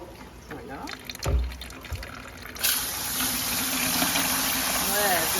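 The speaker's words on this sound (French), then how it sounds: "Je rince tous mes graines avant de les semer." Water runs from a tap into a mason jar to rinse seeds for sprouting microgreens, starting as a sudden steady gushing wash that continues to the end; a voice talks over the early part.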